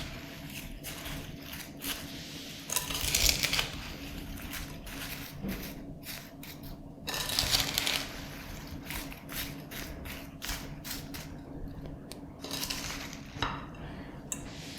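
Cherries and sugar stirred together in a pot for homemade jam, giving scraping, clinking and knocking of a spoon against the pot in an uneven stream with a few louder bursts, fairly close, no talk.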